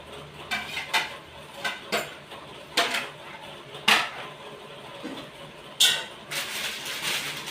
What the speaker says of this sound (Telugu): ఈ దేవుడి దగ్గర పెట్టుకునే రాగి గిన్నెలు, ఇత్తడి గిన్నెలు